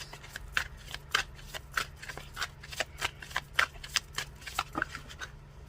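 Tarot cards are shuffled by hand in a light, quick rhythm, with a dozen or so crisp riffling bursts close to the microphone over a faint steady hum.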